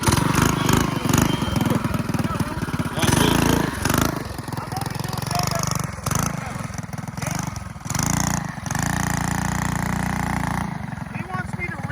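Small Stage 2 Trailmaster minibike engine buzzing and revving nearby, its raspy drone rising and dipping over about twelve seconds, with people talking over the engine noise throughout.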